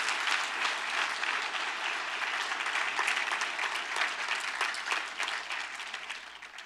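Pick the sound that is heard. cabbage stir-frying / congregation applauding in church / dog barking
congregation applauding in church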